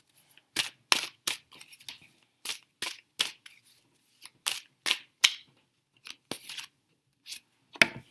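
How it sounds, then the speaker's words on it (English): Tarot cards are shuffled and pulled by hand, a series of short crisp riffling and snapping bursts separated by brief pauses, close and fairly loud. "I shuffle these and mix them in."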